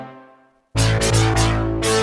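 A thick, buzzy synth lead with distortion, flanger and chorus shimmer bursts in after a fading tone, playing a loud sustained line with a few rearticulated notes.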